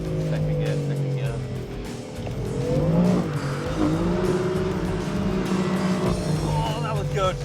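A sports car, either a BMW M4 or a Lexus RC-F, drifting sideways on a track, its engine droning and shifting pitch while tires squeal, loud and close; someone talks over it.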